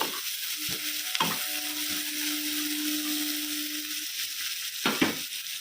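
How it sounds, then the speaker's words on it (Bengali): Chopped onions fry in oil toward browning, a soft steady sizzle broken by a few sharp scrapes and knocks of a spatula against the pan, close and fairly quiet, without speech. "কেটে রাখা পেঁয়াজ পেঁয়াজটাকে ভালো করে আমি ভেজে নেব একদম ব্রাউন কালার করে"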